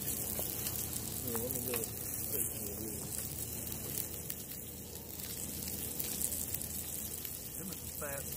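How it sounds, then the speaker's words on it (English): Steak sears in a hot pan at a canoe campsite in the Uwharries, a steady broadband sizzle running throughout with voices talking over it. "Let it get nice and hot, and we're going to sear some steak."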